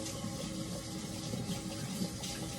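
Water runs steadily from a kitchen tap while a knife is rinsed, a continuous even splashing hiss with no talking.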